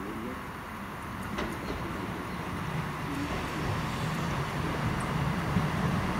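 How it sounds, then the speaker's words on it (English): A three-coach special train to Cardiff passes Sarn railway station in December, heard as a steady rumbling roar of wheels on rails that grows slightly louder, with some faint clanks over the noise. "Train to Cardiff"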